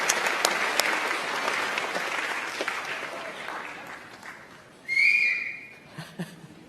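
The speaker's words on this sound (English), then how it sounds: "let's give a round of applause to all of them" A crowd at a university homecoming awards show claps loudly, then the applause fades out; a sharp whistle cuts in near the end, followed by a few scattered sounds.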